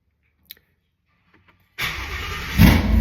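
A car engine cranks and catches after a Holley intake manifold install, bursting in loud after a few soft clicks and settling into a rough, uneven run that swells briefly near the end.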